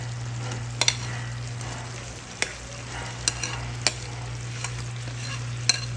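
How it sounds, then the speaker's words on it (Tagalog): Mashed sweet potato (kamote) for camote de leche cooks over low heat in a pan, giving a faint, steady sizzle over a constant low hum. Occasional sharp ticks of a spoon scraping the pan break through. "Saka natin ilagay yung ating dinurog na kamote."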